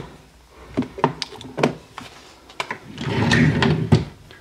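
A vanity drawer slides open in a makeup dressing table, giving a few close wooden knocks and clatters, then a longer rattling scrape as it is pulled out.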